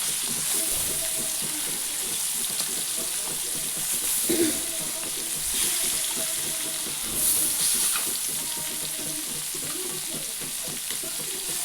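Lolli fish pieces frying on a hot griddle in a home kitchen give off a steady, close sizzle with soft crackles throughout, and no one speaks.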